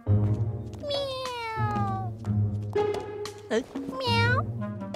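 A cartoon kitten meows several times in high, drawn-out calls, close and clear, over a steady musical background with brief voices in between.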